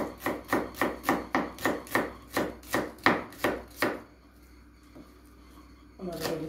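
Knife chopping onions on a cutting board for a Black Sea pickle sauté: about fourteen crisp, evenly spaced chops over four seconds, fairly close and loud, then quiet with a brief clatter near the end.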